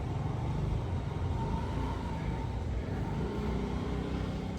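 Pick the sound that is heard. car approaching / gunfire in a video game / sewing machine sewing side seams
car approaching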